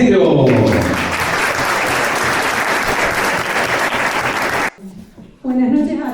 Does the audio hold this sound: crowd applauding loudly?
yes